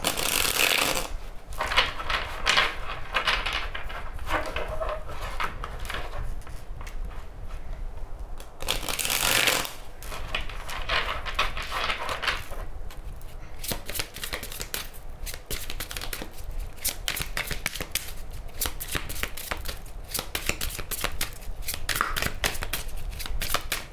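A deck of tarot cards is shuffled by hand in close, continuous riffling bursts with crisp snaps between them, then cut.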